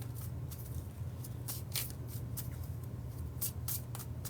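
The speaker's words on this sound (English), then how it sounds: "as I shuffle the cards back into the decks" Oracle cards being shuffled back into their decks give repeated quick riffling and shuffling bursts, close and moderately loud, over a steady low background hum with no talking.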